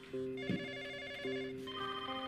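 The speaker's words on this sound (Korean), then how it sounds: "왜 전화 안 받아 시끄럽게 해?" A telephone rings in an office news setting with a steady, repeating electronic ring pattern, moderately loud and near, sounding alone without any talk over it.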